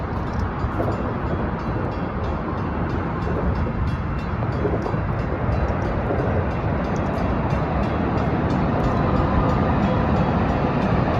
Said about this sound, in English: Train coming.